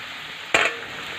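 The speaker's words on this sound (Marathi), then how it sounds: "कढीपत्ता टाकून कढीपत्ता पण छान तेलामध्ये परतून घेणार आहे" Curry leaves dropped into hot oil with browned onion set off a sudden sharp burst of sizzling that quickly settles into a softer steady hiss, close and short, with no talking.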